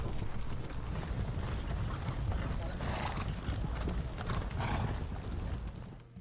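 Hooves of cavalry horses in a Wargame Design Studio battle game clatter in a busy, continuous clip-clop with a brief neigh, while someone talks over the top.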